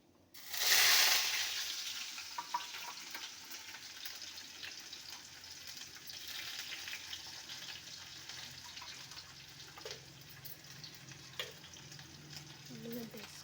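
Onions dropped into a hot pan while cooking ridge gourd chutney, giving a loud burst of sizzling that settles into a steady frying hiss with occasional stirring clinks.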